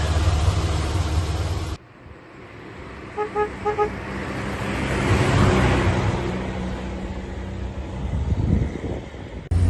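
A 1964 Morris Minor 1000 Tourer drives along, its engine and road noise a steady rumble that dips sharply early on, then swells and fades, with a few short horn-like toots near the start.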